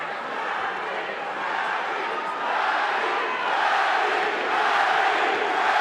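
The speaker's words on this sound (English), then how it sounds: "Crowd chanting, Manny, Manny, Manny, as we expected" Arena crowd at the Manny Pacquiao vs David Diaz boxing match roars and chants in a rhythmic, swelling wash that grows louder over several seconds, distant and dense without distinct single voices.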